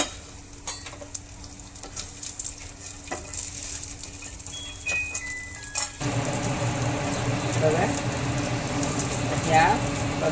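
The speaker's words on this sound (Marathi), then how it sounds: "यामध्ये आपण जे ड्रायफ्रूट घेतलेले होते ते थोडे भाजून घ्यायचे" Dry fruits toast in ghee in a small pan for besan laddu, first quiet scraping and clinks of a spoon with a few beeps, then a louder, continuous sizzle and stirring in the second half.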